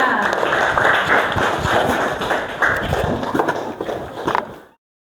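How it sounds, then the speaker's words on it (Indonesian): A classroom of children applauds together, a dense burst of overlapping hand claps that fills the room and then cuts off abruptly. "Tepuk tangan."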